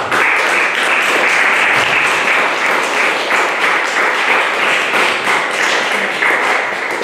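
Loud, sustained applause from a church concert audience for a singer in a Norwegian church, a dense, even wash of hand clapping close by with no voices over it.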